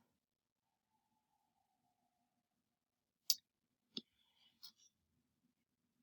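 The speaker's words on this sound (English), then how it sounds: "So click on that." A few sharp, close computer mouse clicks break an otherwise near-silent room, one crisp click followed by a couple more spaced about a second apart, with a faint whisper of background noise.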